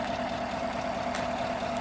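A 2015 Chevrolet Silverado LT Z71's 5.3-liter Ecotec V8 idles steadily and quietly at close range, a smooth constant hum with no voices.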